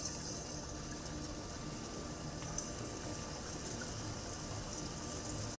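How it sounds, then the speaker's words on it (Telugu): Kajjikaya pastries deep-frying in hot oil, a dense, even bubbling hiss that holds steady and close throughout with no talk. "నూనె మరిగిపోయింది, కజ్జికాయలు వేసేసుకుందాం."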